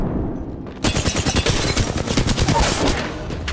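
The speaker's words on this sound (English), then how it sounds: "I am taking fire, friends." Rapid bursts of gunfire in a shooter video game erupt after a brief quiet start, then continue as a loud, dense, sustained volley of rhythmic automatic shots.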